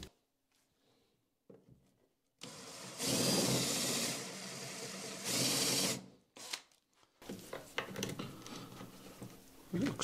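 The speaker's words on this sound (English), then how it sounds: "Now I can do the counter bore on the bottom." A power drill whirs in two loud bursts, drilling a counterbore in PVC, with quiet gaps and clattering handling noises between and after.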